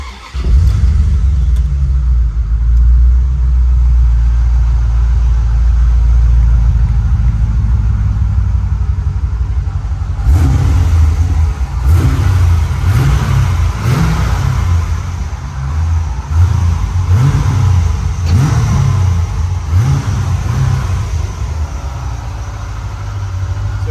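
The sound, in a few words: 1993 Corvette Callaway Supernatural 450 engine starting and revving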